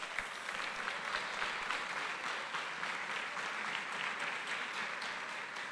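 A church congregation at a Portuguese-language service applauds steadily, a broad, even wash of many hands clapping that holds at a moderate level for several seconds without talk.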